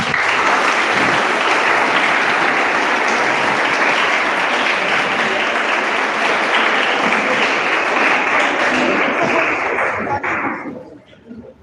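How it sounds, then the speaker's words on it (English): A large audience at a live school event claps in sustained, loud applause to welcome the management committee, including the president and general secretary, the applause steady for about ten seconds before tapering off at the end. "Give a huge round of applause for them."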